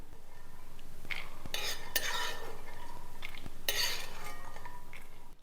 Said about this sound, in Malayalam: ഇത് നമുക്കൊരു മിക്സി ജാറിലേക്ക് നമുക്ക് മാറ്റാവുന്നതാണ്.